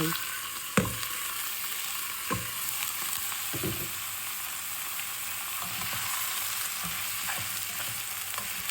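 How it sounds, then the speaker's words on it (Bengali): Food frying in a pan while cooking bhuna khichuri, a steady bright sizzle throughout with a few sharp utensil knocks and light stirring scrapes. "খুব ভালো করে এখন ভাজি করবো"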